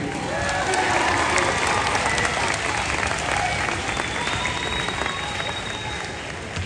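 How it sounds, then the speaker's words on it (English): An audience at a school band performance applauds loudly and continuously, dense clapping filling the room with a few faint cheers mixed in. "How about a round of applause for all of our well-prepared teachers like Mr. Quimby?"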